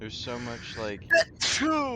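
A person sneezes once, a sharp, brief burst between stretches of conversational speech from a gaming stream, with talk resuming right after.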